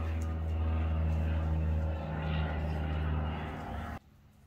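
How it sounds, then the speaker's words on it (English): A steady low engine drone of an airplane passing overhead, fairly loud and continuous, cutting off abruptly near the end. "Is that the aeroplane? You see the aeroplane?"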